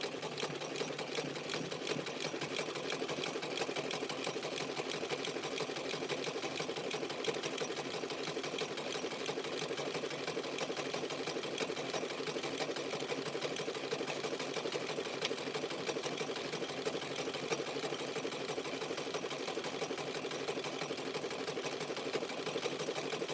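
A sewing machine stitches fabric-wrapped clothesline rope in one long continuous run, its steady rapid needle chatter unbroken for more than twenty seconds.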